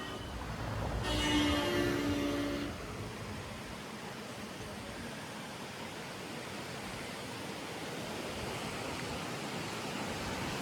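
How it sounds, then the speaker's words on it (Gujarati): River rushing beside a mountain road near Pahalgam, a broad continuous roar of water, steady and fairly loud, with a brief brighter noise burst early on and no talk. "બાજુમાં જ મસ્ત મજાની નદી વહે છે."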